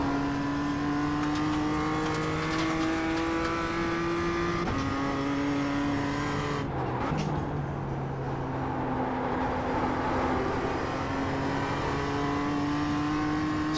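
Race car engine held at full throttle in a racing video game, a loud continuous high-pitched drone that climbs in pitch and drops briefly at each gear change, steady and close throughout with no talking.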